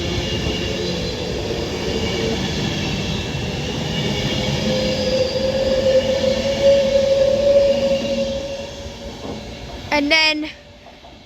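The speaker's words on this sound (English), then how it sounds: "departing behind me was a Northern 331, which did the 1510 Northern service from Liverpool Lime Street to Blackpool North" A Northern class 331 electric train pulls out of Wigan North Western station with a rising motor hum and a steady rolling rumble, then fades, ending with a brief sharp squeal or clatter; a voice speaks over it.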